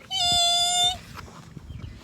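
A single high, sustained squeal lasting about a second, voiced to mimic screeching brakes, followed by quiet background.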